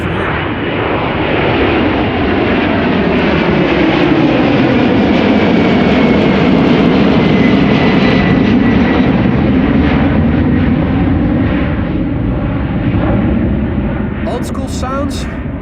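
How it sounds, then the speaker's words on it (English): United Airlines Boeing 767 taking off from Amsterdam Schiphol, a loud, sustained jet roar that swells through the middle and eases slightly toward the end, with no talk over it. "Old school sounds. United Airlines 767."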